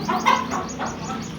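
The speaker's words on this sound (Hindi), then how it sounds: "लें जी, ये बड़ी मुर्गियाँ" Chickens cluck in a poultry shed where large hens are kept, a few close, overlapping calls rising and falling over a soft background.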